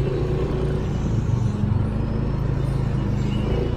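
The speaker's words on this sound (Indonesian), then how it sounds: "Di arus lalu lintas lewat jembatan Telaga Mas ini rupanya sudah mulai ramai ya" Busy road traffic crosses the newly opened Tlogomas bridge, with a steady, loud rush of car and motor engines and tyre noise passing close by without a break.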